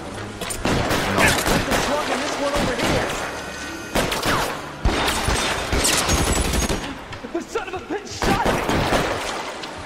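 Rapid bursts of gunfire from the video game L.A. Noire crackle in a dense fusillade, loud and sustained across several volleys with brief gaps, under intermittent talk.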